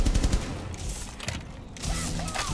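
Gunfire in a competitive shooter game crackles in dense volleys, loud at first, easing off briefly, then returning in a heavy burst near the end.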